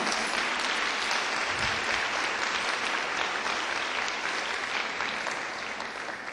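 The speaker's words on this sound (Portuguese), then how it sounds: "vamos dar um aplauso ao Senhor" A congregation at a church service claps together in dense, sustained applause, loud and even throughout the room for several seconds, tapering only slightly at the end.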